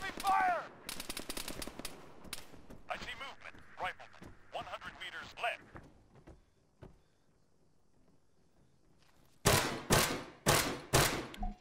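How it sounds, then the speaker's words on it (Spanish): Machine gun fire in the video game Arma 3 ends in a loud series of rapid automatic bursts after a quieter lull, preceded by someone speaking Spanish over scattered earlier shots and game sounds. "Lo que no arregla unos tiros de metralladora no lo arregla nada."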